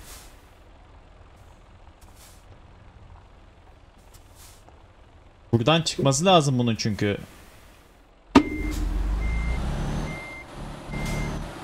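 Truck in Euro Truck Simulator 2 sits idling low, then reversing beeps chirp loudly for a couple of seconds, followed by a sharp hiss of the air brake and a rumbling engine. Someone speaks briefly at the start.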